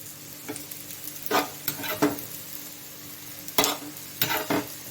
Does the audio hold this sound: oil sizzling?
yes